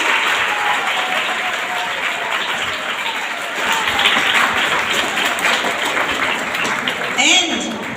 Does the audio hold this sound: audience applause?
yes